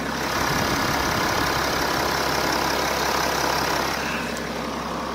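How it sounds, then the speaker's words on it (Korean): A 3.0-litre inline six-cylinder diesel engine in a BMW 6 Series Gran Coupe idles close by, a steady low rumble with an even mechanical hum that holds unchanged for several seconds, no voices. "바로 엔진 소리 한번 들려드릴게요"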